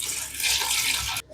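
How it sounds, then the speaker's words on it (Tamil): Measured water poured into a pot of partly cooked chicken for home-made biryani, a steady close splashing stream that cuts off abruptly near the end. "இப்போ நம்ம வந்து தண்ணி அளந்து ஊற்றிக்கலாம்."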